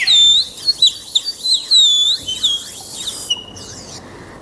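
Small birds chirp in a series of bright, rising and falling calls, fairly close and clear, with brief pauses between the notes and a quiet background.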